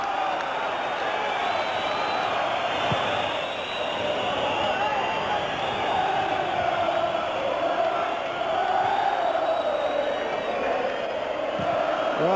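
A packed football stadium crowd at an Ipswich Town versus Aston Villa League Cup replay gives a raucous, continuous roar of applause and cheering, loud and steady with no pause.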